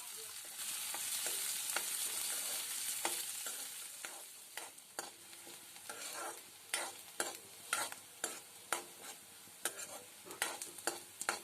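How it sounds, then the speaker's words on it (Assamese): Three dried chillies, a finely chopped onion and four garlic cloves fry in a pan, a steady close sizzle giving way to a run of regular spatula scrapes and stirring clatters. "আটাইখিনি 1 মিনিট ভালদৰে ভাজি ল'ম।"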